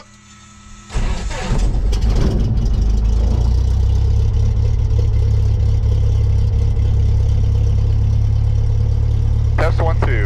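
A small propeller airplane's engine cranks over and catches, then settles into a steady, loud idle with a deep drone that runs throughout, and a brief rattle is heard near the end.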